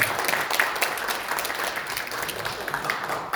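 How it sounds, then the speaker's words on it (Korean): A seated crowd at a citizens' assembly founding forum breaks into brief applause, a thick, slightly uneven patter of many hands that holds steady for a few seconds without speech. "박수로 같이 호응해 주시기 바랍니다."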